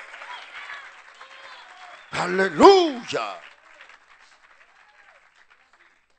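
A church congregation at an evangelical crusade breaks into a short, loud burst of applause mixed with cheers and shouted praise, rising suddenly after quieter talk and fading within about a second.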